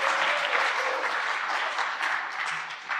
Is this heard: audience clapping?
yes